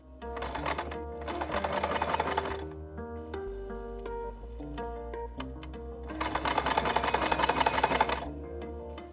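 A sewing machine stitches bias tape binding along a long edge in two loud bursts of rapid needle clatter with a quieter fiddly pause between, no talk.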